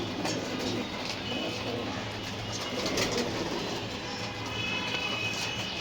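Pigeons gather at feeding time, soft cooing mixed into a steady, busy background of fluttering and pecking, with a faint low rumble underneath.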